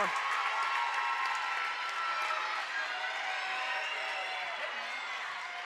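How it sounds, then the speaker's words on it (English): A school spirit crowd at a district volleyball game cheers and claps in a distant, reverberant gym, a sustained wash of shouting and applause under a nearer speaking voice. "you can sure hear that Spirit crowd over there"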